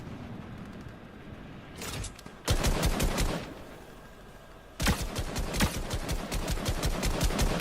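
Rapid automatic gunfire in the Unreal Tournament video game, two loud sustained bursts separated by a short lull, with a player speaking briefly over it.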